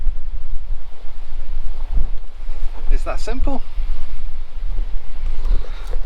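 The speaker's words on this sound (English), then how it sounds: "It is a little bit too windy to film outside right now." Strong coastal wind in Denmark buffets the microphone with a constant low roar and gusts, while a person briefly speaks over it.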